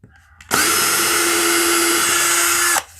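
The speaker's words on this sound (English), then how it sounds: "So I'll take the drill bit out, put my nut driver in." A power drill fitted with a bit, used while making cutting boards, whines steadily at high speed for about two seconds, loud and close, starting and stopping abruptly.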